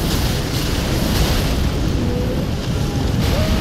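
Rykard, the Elden Ring boss, unleashes a fire eruption attack: a loud, continuous roaring rumble of flame and blasts that fills the whole stretch without letting up.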